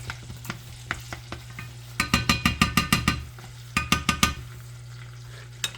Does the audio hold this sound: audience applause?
no